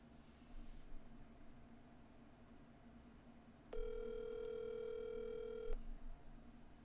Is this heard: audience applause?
no